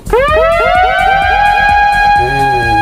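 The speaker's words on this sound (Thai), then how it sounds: "อย่างสมมุติว่า เสียงไซเรนเอามาไว้ที่ปุ่มแรก ผมก็จะลองเล่นดู" A loud siren sound effect is triggered from a performance pad on a Pioneer DDJ-400 DJ controller, with a wailing tone rising and falling rapidly in repeated sweeps before settling into a steadier note.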